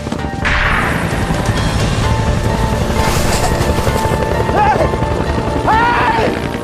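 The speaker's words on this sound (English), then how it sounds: "all of a sudden we heard this helicopter sound." A helicopter drones loudly with a rumbling, chopping roar, while voices call out briefly over the engine noise.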